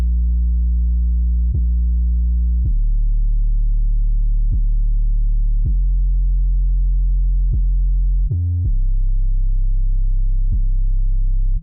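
A simple 808 sub bass with slight distortion in FL Studio, loud sustained low tones shifting pitch every second or two, with one brief octave jump near the end, alone without voices.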